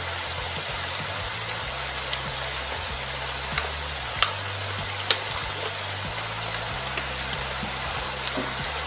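Soy sauce poured into lomo saltado sizzling in a hot pan, giving a steady dense crackle and hiss of frying with a few sharp pops, close and continuous, no voices.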